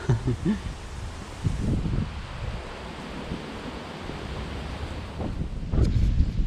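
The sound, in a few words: wind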